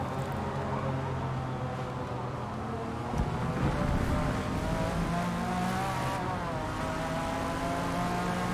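McLaren race car in Forza Motorsport, engine droning and rising in pitch through shifts, a continuous mid-distance roar with another car passing.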